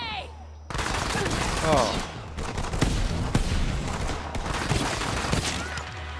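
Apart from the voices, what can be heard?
gunfire in Borderlands 3 video game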